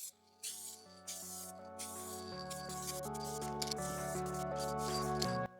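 Adhesion promoter sprays from an aerosol can onto a car dashboard in a Toyota Celica interior, close and hissing in short bursts that merge into a longer continuous spray.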